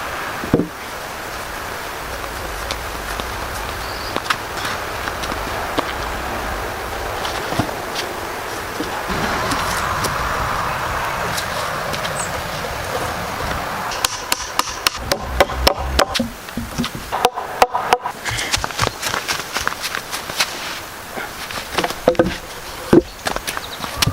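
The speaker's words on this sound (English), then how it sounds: "he carves out sections in the corner posts" Notches are carved into log corner posts for a cabin in a forest, heard as a bright, steady working drone at first, then dense runs of sharp, rapid woody strikes close by, over a faint insect buzz.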